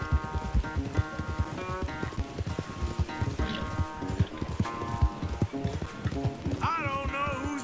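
Horse galloping in Red Dead Redemption 2, a fast, steady clip-clop of hooves close by throughout, with a short whinny-like call near the end over faint game voices.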